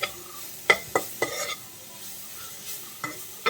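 Moringa leaf thoran being stirred in a pan, with a few sharp scraping strokes of a spoon against the metal over a soft, steady sizzle.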